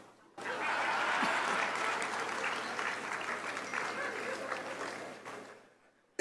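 Applause from an audience at a tribute night for the late Dr Doyinsola Abiola bursts in suddenly, a dense sustained clatter of many hands that gradually thins and fades before cutting off, heard at a distance.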